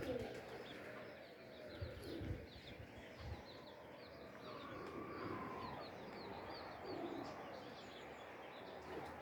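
Several purebred old-breed white pigeons coo in a loft, low soft calls repeating irregularly at close range, with faint chirps and background ambience and no speech.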